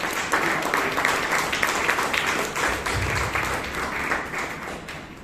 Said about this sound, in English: Let us give good round of applause for our great speaker.